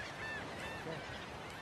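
A flock of shorebirds, including knots, lifts off a beach, giving faint, repeated honking calls over a constant background wash, heard from a distance.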